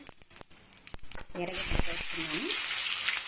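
Spice tempering sizzling in hot oil, close and loud, after a few sharp clicks and a brief voice, then settling into a continuous hissing fry.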